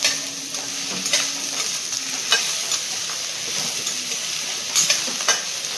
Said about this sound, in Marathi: आता मी ही सगळी परत परतून घेऊया काकडी घातल्यावर